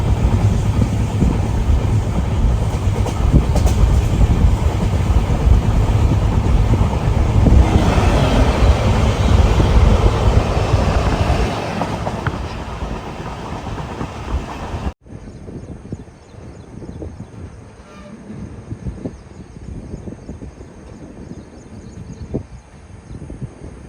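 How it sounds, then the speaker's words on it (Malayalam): The Hampi Express rolls into Toranagallu station with a heavy, wind-buffeted rumble that eases off, then gives way after an abrupt cut to quieter, intermittent rattling as the carriages slow. "തൊറനഗല്ലൂർ റെയിൽവേ സ്റ്റേഷനിലേക്ക് ഇതാ നമ്മുടെ ട്രെയിൻ എത്തിയിരിക്കുകയാണ്"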